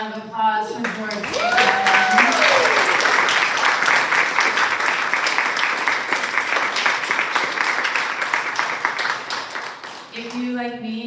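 Audience applause for a poet at a poetry reading, a dense sustained clapping that swells and holds for several seconds under a speaking voice at the start and end.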